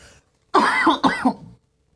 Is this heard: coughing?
yes